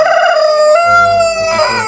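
A rooster crowing loudly and close, one long drawn-out cock-a-doodle-doo with strong harmonics filling the clip, while a second bird crows lower and further back.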